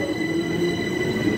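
A Class 375 electric train, two units coupled, departing platform 1 at Deal station, heard as a brief steady rumble with a faint tonal whine. Close and loud, with no talking.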